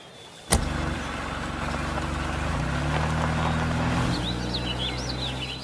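Car idling nearby with a steady low engine hum, opening with a sharp thump like a door shutting, and faint bird chirps rising near the end.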